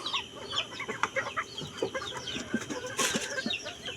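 Backyard chickens cluck and squawk steadily while being fed rice, several birds close by with overlapping calls and a brief louder burst, no talking.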